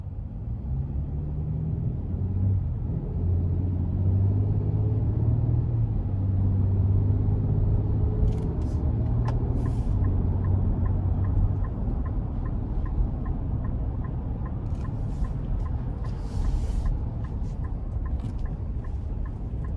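A 2025 Nissan Armada SL accelerates up an interstate on-ramp, its engine rising in a sustained near rumble that later settles, while a turn-signal clicker ticks steadily partway through.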